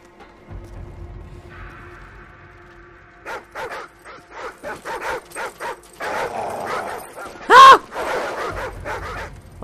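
A pack of dogs barking and yelping in a Call of Duty 4: Modern Warfare game, with repeated close, loud barks in irregular bursts and occasional whimpers, one especially sharp bark standing out.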